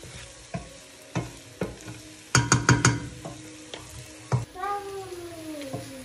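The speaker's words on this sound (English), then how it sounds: "And now we just stir a little bit" Spoon clacks and scrapes against a pot while Kenyan Swahili pilau ingredients are stirred, irregular sharp knocks with a quick cluster in the middle, faint sizzling beneath, and a cat meowing near the end.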